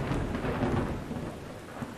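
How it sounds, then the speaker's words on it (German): Thunder rolls in a steady, loud rumble under a continuous hiss of heavy rain for the whole stretch, from the survival video game Miscreated in a snowy setting. "Mich hat ein Blitz getroffen."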